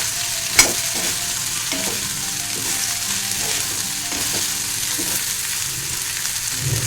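Raw banana frying with coconut in a pan, giving a steady close sizzle with stirring scrapes and one sharp clink near the start, and no voices.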